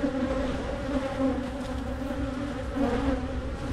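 Agitated honeybees swarm close around a GoPro camera, a dense, steady, droning buzz with small swells in intensity and no voices.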